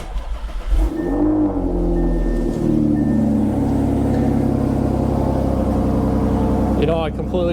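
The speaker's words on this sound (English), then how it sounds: "I am going to do a nice little cold start video for you guys" An Audi A6 3.0T engine cold-starts, cranking and firing, revs up briefly, then settles into a steady idling rumble until a short, different sound at the end.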